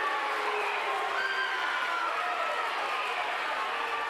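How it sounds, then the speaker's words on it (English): A rambunctious crowd at a high school wrestling match roars in a dense, continuous wash of voices and cheers that stays loud and steady throughout. "The crowd is very rambunctious right now."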